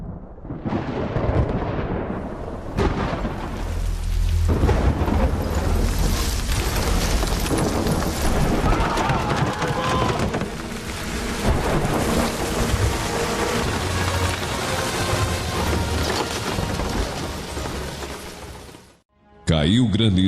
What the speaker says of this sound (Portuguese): o Senhor fez vir trovões e granizo, e raios caíam sobre a terra